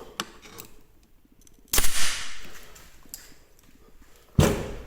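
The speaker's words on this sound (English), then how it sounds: "I'm going to go ahead and release the bolt" A firearm bolt released to snap shut makes a sharp metallic clack, loud and close, with a few lighter clicks of handling before it and another hard clack near the end.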